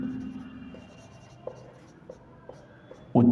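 Writing on a board during a physics lesson, with faint scattered chalk or marker taps and strokes over quiet room tone, ending in a louder scratch.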